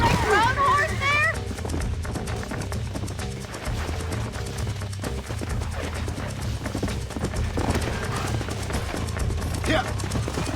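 Horse hooves clip-clop in Red Dead Redemption 2, a rhythmic trotting beat under voices, game music and other background sounds.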